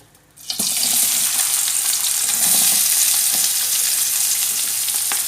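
After a short quiet start, onions hit hot oil in a pan and break into a loud, continuous sizzle, with stirring scrapes running underneath and no talking.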